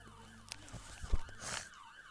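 A police siren wails in a short rising and falling sweep, loud and fairly close, with muffled knocks and rustling underneath.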